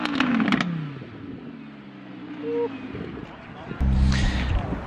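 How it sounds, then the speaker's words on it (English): Audi R8 supercars rev their engines in a rev battle out among supercars at Sandbanks, loud throaty bursts rising near the start and again toward the end, with people talking over the engine noise. "Rev battle between R8 and R8."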